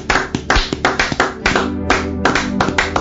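A church congregation at a family fasting and prayer service claps together in a fast, rhythmic burst of loud, close handclaps, with no voices over it.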